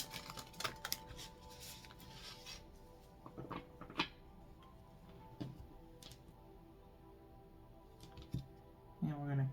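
A deck of tarot cards being shuffled by hand, giving dry papery riffles and soft card taps in irregular bursts with a few sharper clicks, close and moderately quiet.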